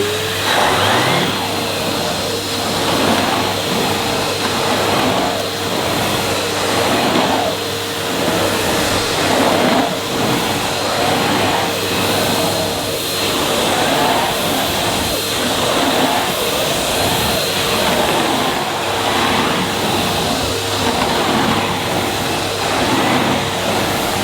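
A Henry Pet XL vacuum cleaner with aero brush runs continuously on plush Saxony carpet, a loud steady motor drone with rhythmic pulses as the head is pushed back and forth.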